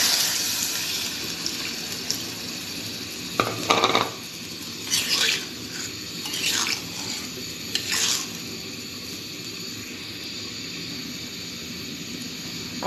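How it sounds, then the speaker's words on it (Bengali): Water goes into a simmering curry in a home kitchen, meant as gravy before fish is added. Soft splashing bursts come in several short pours over a low, constant bubbling hiss. "পানি দিয়ে দেবো।"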